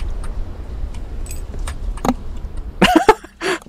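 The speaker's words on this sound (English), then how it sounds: "I just heard a bunch of keys dropping" Keys jangling and dropping in a video game, a few sharp metallic clinks and rattles toward the end over a quiet background, close and fairly loud.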